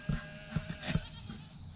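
Goats on a farm bleat in short, scattered calls, moderately close, with light outdoor noise around them.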